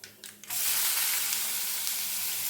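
A few soft knocks and then thinly sliced shallots drop into hot oil, bursting into a loud, steady sizzle that carries on evenly, for hotel-style sambar rice.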